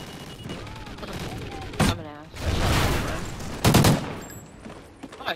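Gunfire in a multiplayer video game shooter rattles out in two loud bursts of rapid shots, with steady game background noise and a faint voice between them.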